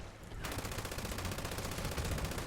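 MG42 light machine gun firing in Fallout 76, a loud continuous rapid-fire stream of shots that starts abruptly after a brief moment and keeps hammering steadily without pause.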